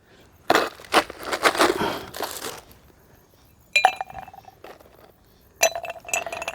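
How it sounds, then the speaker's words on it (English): Ice clinks and rattles in a glass of cold beer outdoors, bright chinks and crunchy shifting in several short bursts separated by quiet pauses. "Cold beer with ice on it."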